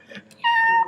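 A person imitates a cat with a short, loud, tonal meow that lasts about half a second, following a brief murmur.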